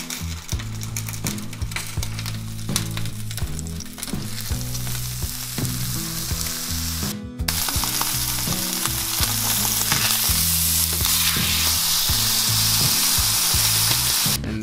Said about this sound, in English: then we're gonna sear it in the cast iron skillet